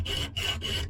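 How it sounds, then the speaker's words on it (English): Coarse strip sandpaper rubbing back and forth over a carved wooden spoon, a steady raspy scraping in three close, even strokes. "This is really coarse sandpaper."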